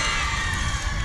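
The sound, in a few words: softball crowd cheering after a strike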